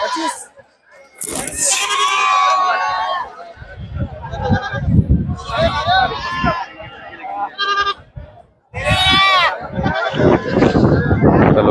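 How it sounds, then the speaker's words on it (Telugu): Sheep and goats bleat loudly and repeatedly at a weekly sheep and goat market in Ichoda, several calls overlapping close by amid a busy crowd murmur. "గొర్రెలు చూడు"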